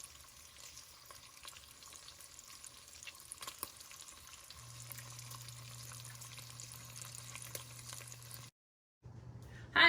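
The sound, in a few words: bacon frying in a Pampered Chef Rockcrok Dutch oven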